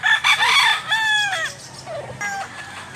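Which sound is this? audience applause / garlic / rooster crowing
rooster crowing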